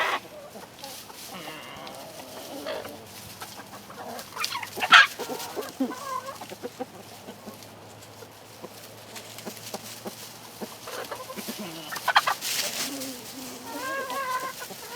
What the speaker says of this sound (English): one rooster just ran the other one out the gate